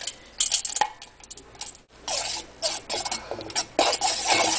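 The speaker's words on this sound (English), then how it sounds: "I'm gonna dump the beeswax pellets." Beeswax pellets poured into a bowl make a quick spill of small hard clicks and rattles, close and fairly loud in a few short bursts with a brief pause in between.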